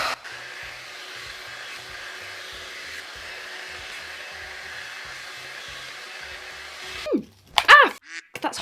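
A budget hot air styler sold as a Dyson Airwrap dupe blows hair dry with a steady, close whooshing roar for about seven seconds, then cuts off, leaving a few brief clicks and rustles.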